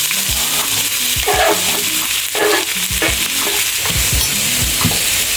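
Fennel seeds, cinnamon and cardamom fry loudly in hot oil with a dense crackling sizzle. Repeated scraping strokes of a stirring spoon cut through it, close and steady.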